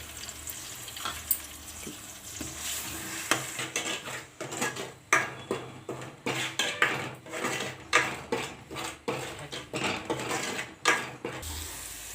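Onion, ginger and garlic paste stirred in a cooking pot for a fish curry, a spoon scraping and clanking against the metal with a steady sizzle underneath, repeated close strokes over several seconds.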